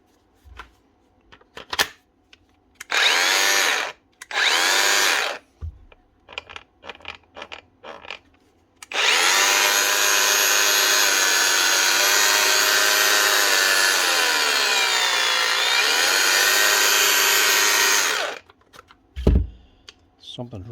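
A 2020 Makita DGA463 cordless 4.5-inch variable-speed grinder, worn and down on power with something rubbing inside, whines weakly and slowly for about nine seconds, its pitch sagging midway, after several short starts and scattered handling knocks.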